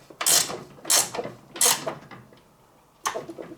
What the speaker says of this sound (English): I'm tightening up the bolt that holds the handle on this blower.